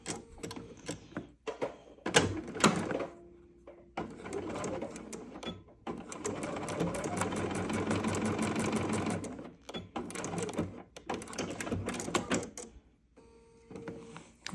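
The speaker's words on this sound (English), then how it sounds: "now we're gonna sew from the 1/4" seam allowance across and making sure to back tack so that those seams don't come apart" A sewing machine runs a quarter-inch seam across a quilt block with back tacking, starting and stopping at moderate loudness with clicks and handling noises around the longer stitching runs.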